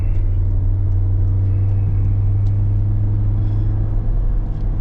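A Ford Sierra 2.0i Ghia with a faulty exhaust runs loud, its engine giving off a heavy, steady low rumble and drone that holds constant throughout.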